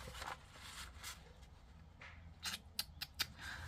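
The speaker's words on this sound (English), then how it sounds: "I want to cut one out." Scissors snip through a book page with a few quiet, close cuts, ending in a short burst of sharper snips, no talking.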